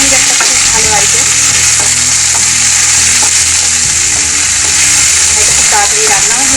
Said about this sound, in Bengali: প্রথমে আমি পেঁয়াজটা দিয়ে দিচ্ছি